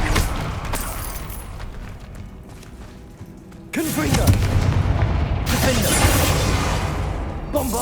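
Confringo blasting spells burst in Hogwarts Legacy combat, heavy booming explosions with a loud rumbling impact partway through, under battle noise.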